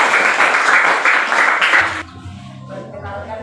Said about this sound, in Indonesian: tepuk tangan dulu untuk kelompok yang sudah tampil